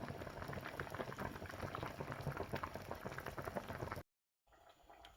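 Peeled plantain bananas cook in water at a quiet, rolling boil, bubbling busily for about four seconds before cutting to silence, then a faint return.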